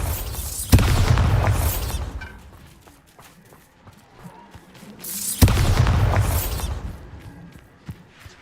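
Two loud booming blasts from the Bombarda spell in the video game Hogwarts Legacy, each a sharp crack swelling into a rumbling burst, separated by quieter game ambience with small clatters.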